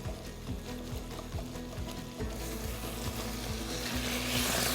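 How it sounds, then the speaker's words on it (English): Celery pieces hit a hot pan with onions already cooking for chicken paprika, giving a steady close sizzle and crackle that swells slightly louder toward the end. "Now we're going to drop our celery in there."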